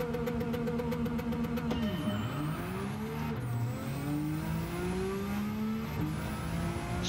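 A race car in Gran Turismo 7 launches hard and accelerates, its engine note climbing through several gear shifts in a loud, steady rising whine with brief drops between gears.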